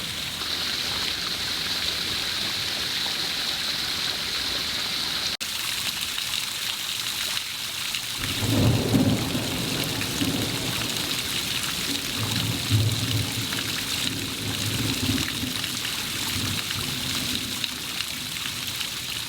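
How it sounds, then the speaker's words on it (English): Heavy rain pours steadily in the Australian bush during a thunderstorm, a dense hiss throughout, with low rolling thunder rumbling in the middle and later parts. "I'm here in the middle of a thunderstorm."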